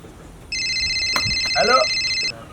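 An electronic telephone ringtone warbles steadily for about two seconds in an office setting, loud and close, with brief talk underneath.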